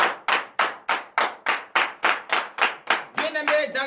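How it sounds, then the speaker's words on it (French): Congregation clapping loudly to praise God during a Saturday morning prayer service in Benin, a steady rhythmic train of sharp, evenly spaced claps that grows fuller and more scattered toward the end. "Que je vous demande d'applaudir très très fort ce grand Dieu."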